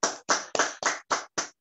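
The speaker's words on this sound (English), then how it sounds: "Let's clap for the Master." Six sharp, evenly spaced hand claps from a church congregation during a live worship ministration, close and distinct with short silences between them.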